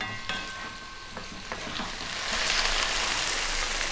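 Chopped hard vegetables such as celery, carrot and garlic frying in a pan over above-medium heat, with a steady close sizzle and occasional stirring scrapes that grow louder and fuller toward the end, no talking.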